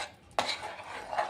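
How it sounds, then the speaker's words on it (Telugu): Sweet potato halwa being stirred with boiled milk in a pan: a sudden spoon scrape against the metal, then a soft, wet swishing of the mixture that swells again toward the end, close and fairly quiet. "కాచి చల్లారబెట్టిన పాలని యాడ్ చేసుకొని పాలు స్వీట్ పొటాటో బాగా మిక్స్ అవ్వాలి"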